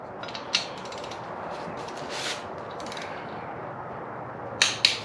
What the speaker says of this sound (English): we're gonna do a torques real quick. So, one click.